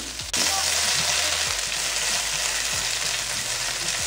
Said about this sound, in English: you want to just fry these, moving it around, back and forth, so all of the sides get coated by the olive oil